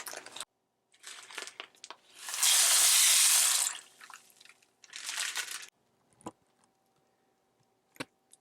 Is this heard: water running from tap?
yes